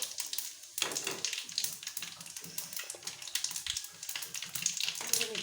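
Mustard seeds and cumin sizzling in hot oil for tempering, giving a bright, crackling hiss with scattered pops, close and steady, with light kitchen clatter.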